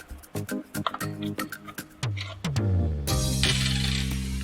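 Small metal parts clicking and dropping as a coin cell battery is swapped inside an all-in-one PC, a quick run of close, sharp taps and clinks followed by a scraping rattle.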